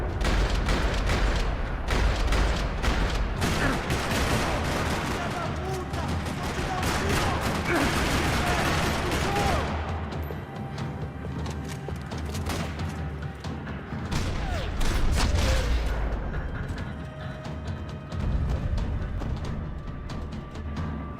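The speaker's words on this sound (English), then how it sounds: "Another parking lot rattling with gunfire." Dense, rattling gunfire fills a parking lot in Max Payne 3: loud, continuous bursts of automatic and single shots with crashes and booms layered throughout, barely pausing.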